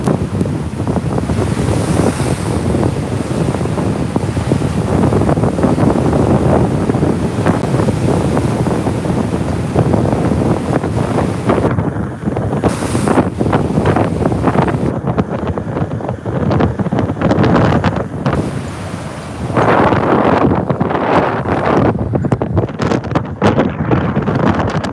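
Powerful wind buffets the microphone on a North Norfolk coast beach in the UK while large waves crash and roar continuously, loud and unbroken throughout, with the wind briefly easing in places.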